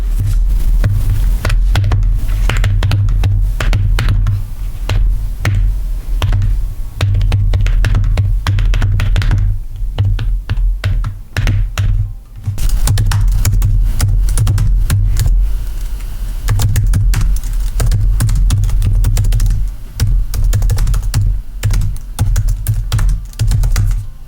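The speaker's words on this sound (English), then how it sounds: "Let's now take a listen at how this keyboard sounds." Typing on an Apple Smart Folio Keyboard for iPad, a fast stream of soft, close, dry key taps with brief pauses and the occasional heavier thunk, continuing for over twenty seconds with no talking.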